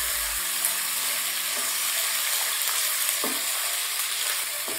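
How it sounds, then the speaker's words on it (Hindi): Ginger-garlic paste sizzles in half a cup of hot oil in a pot over a medium flame while mutton korma is being made. The frying is a continuous, even crackle, close and alone, with a short stirring scrape partway through. "फ्राई करेंगे इसे।"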